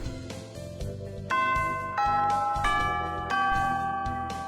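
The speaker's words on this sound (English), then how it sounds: "Oh, the bell already? Come on, we need to hurry to class." A school bell chime rings out in a visual novel video game, clear tonal ding notes entering one after another over a steady background music bed, loud and sustained with no talking.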